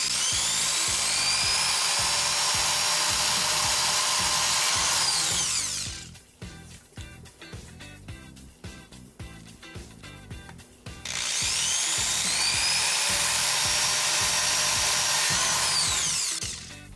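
Power drill boring holes into an e-ink magazine display, two loud sustained high-pitched whining bursts separated by a stretch of quieter clicking and handling.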